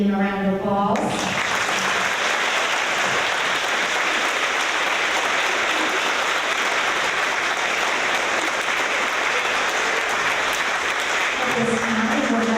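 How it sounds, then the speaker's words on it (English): Sustained applause from a large crowd at an elementary school fourth-grade awards ceremony, loud and steady for over ten seconds, with a brief voice heard at the start and end. "Parents, please join me in giving them a round of applause."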